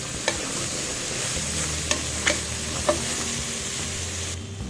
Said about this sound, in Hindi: अब मैं इनको भी 1 मिनट करीब इसमें भूनूंगी।